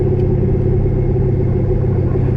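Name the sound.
whining rear gears of a drag car, Midwest chassis 9-inch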